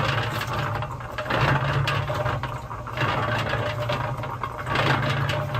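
A YardMax 1.6 cu ft compact portable concrete mixer runs with a continuous, fairly loud mechanical drone and hum that swells and dips in a slow, regular cycle.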